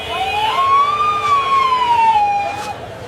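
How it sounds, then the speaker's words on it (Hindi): Police car siren wailing loudly and close, one rising and falling sweep over a low rumble of traffic, with no speech. "ये अचानक पुलिस की गाड़ी।"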